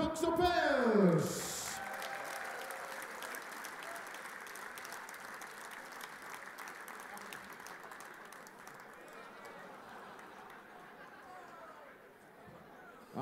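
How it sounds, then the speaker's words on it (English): Crowd applause at a youth darts final at the Dutch Open, sustained dense clapping with cheering and chatter underneath, a short voice at the start, fading near the end. "we will see them off stage with a massive round of applause"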